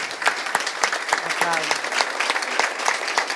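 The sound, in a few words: audience applause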